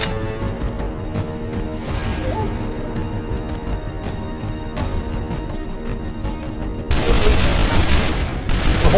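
A mounted turret fires in The Mummy: Tomb of the Dragon Emperor game, a rapid run of heavy booming shots with explosive impacts, growing louder and denser in a final burst near the end.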